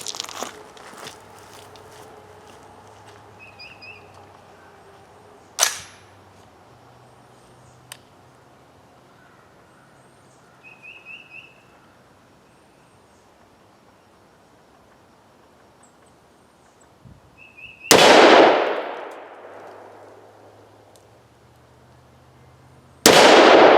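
Gunshots firing cast lead bullets at a mild steel plate in an outdoor penetration test: a few loud sharp reports with long gaps between them and quiet ambience around them.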